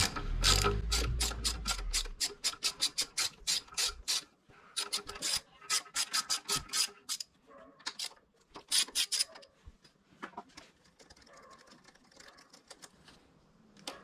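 A ratchet clicks rapidly and close-up while loosening the fuel-tank bolts on a Daytona 675R motorcycle, with several fast runs of crisp pawl clicks separated by brief pauses, fading to sparse handling noises at the end.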